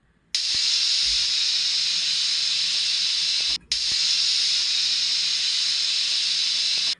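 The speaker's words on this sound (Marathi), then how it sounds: "आपण कुकरला साधारणतः 7 ते 8 शिट्ट्या देऊन हरभऱ्याची डाळ छान व्यवस्थित अशी शिजवून घेतलेली आहे" A pressure cooker whistle releasing steam while chana dal cooks: a loud, steady hiss that cuts off briefly, then resumes at full strength.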